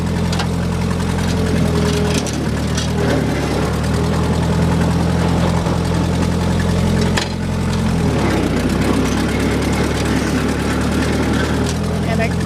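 The engine of a 1949 Allis Chalmers Model D motor grader runs steadily, a loud, constant low rumble and drone that holds throughout while the machine works rock downhill in second gear.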